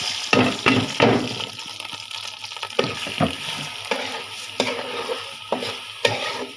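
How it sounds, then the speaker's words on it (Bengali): Rice frying in roast oil in a pot for Bangladeshi wedding-style chicken polao, a loud close sizzle with frequent scraping stirs and clinks of a spoon against the pot. "চালটা একটু ভেজে দিব আমি"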